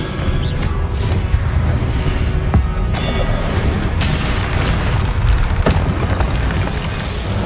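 Spell combat in Hogwarts Legacy thuds and booms continuously, with sharp cracking hits around the middle and end over a dense, loud rumble of battle effects.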